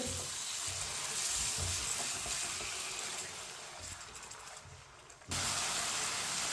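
Water goes into a hot pan of frying spices for aloo baingan, a soft steady hiss and sizzle that dips briefly, then resumes evenly, with no talking.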